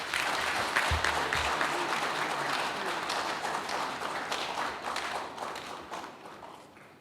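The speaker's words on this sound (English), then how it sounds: "with a resounding round of applause, let's welcome the chairman for today's function" Sustained applause from a large audience welcoming the chairman at a formal function honoring a justice, dense steady clapping that fades slightly toward the end.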